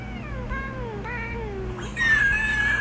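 A cat gives several drawn-out, wavering meows close by, followed by a louder, rising caterwaul, with no talking.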